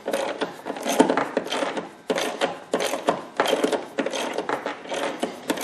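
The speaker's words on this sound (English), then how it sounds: "the second time taking this off, or screwing this out, is much easier than the first" A tie rod end on a Chrysler 300M is unscrewed with a ratcheting tool, producing close, repeated bursts of metallic clicking in a regular rhythm with brief pauses between strokes.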